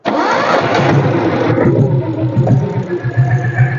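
A diesel Royal Enfield Bullet motorcycle's electric starter cranks briefly, then the engine catches and settles into a loud, close, steady idle.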